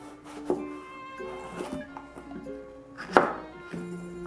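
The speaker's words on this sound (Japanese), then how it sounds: "包丁の手さばき見られるの恥ずかしい。" A knife chops on a cutting board in a few irregular, fairly quiet strokes, with one sharper knock near the end.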